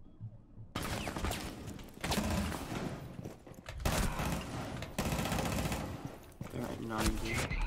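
Rapid automatic gunfire from the player's weapon in a shooter game comes in repeated loud bursts that rattle across several seconds, with a voice talking over the shooting.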